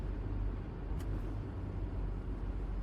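Low, continuous rumble of a car moving along the road, steady and droning from inside the vehicle, with no voices.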